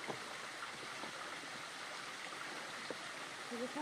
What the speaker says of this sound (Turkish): dere akıyor.